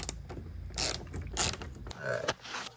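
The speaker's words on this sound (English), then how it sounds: "I'm using a star piece, which is a T20. Undo all these" A ratchet with a T20 Torx bit undoes bolts on a 5th-gen Camaro during a rear valance diffuser install, giving several bursts of close mechanical clicking and grinding with short pauses between them.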